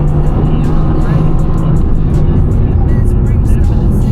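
A Mercedes-AMG GT R Pro engine roars at full throttle climbing a hill, a loud sustained drone that holds steady from close by inside the car.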